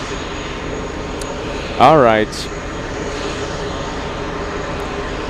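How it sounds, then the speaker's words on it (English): An aircraft auxiliary power unit at JFK airport runs as a loud, steady drone throughout, with a brief spoken voice over it near the middle. "let me adjust the APU. It's loud."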